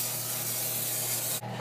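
A can of 100% extra virgin olive oil cooking spray gives a loud, close, steady hiss for about a second and a half, cutting off abruptly near the end, with no talking.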